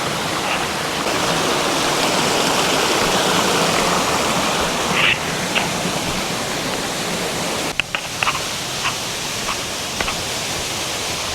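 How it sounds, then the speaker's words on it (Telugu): Water rushing steadily across a road water crossing on a trip near Lonar Crater, a loud, unbroken wash of flow with a few faint knocks and clicks on top. "వాటర్ క్రాసింగ్ అయితే ఉంది."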